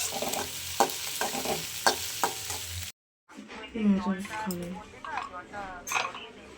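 Chopped onion, a few flat beans and two eggs fry in a pan, with a steady sizzle and stirring scrapes over the first three seconds, then a brief drop to silence before someone talks over the softer frying.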